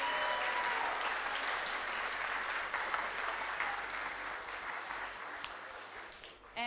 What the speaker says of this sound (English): So everybody give a round of applause for Teddy Nguyen